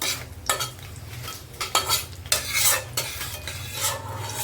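Cumin seeds and dried red chillies crackle and sizzle in hot oil in a wok while a utensil stirs and scrapes the pan in short bursts.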